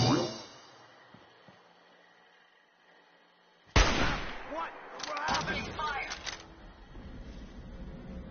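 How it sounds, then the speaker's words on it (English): Gunfire in Fallout 4 against strange robots, with a sudden loud burst after a quiet stretch, followed by a rapid string of sharp shots and impacts that trail off, with faint talk early on. "Opening fire!"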